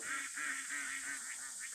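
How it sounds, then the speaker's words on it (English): Ducks quacking outdoors in the background on a property, a steady run of repeated nasal honking calls at a moderate distance with no talking. "Ducks in the background."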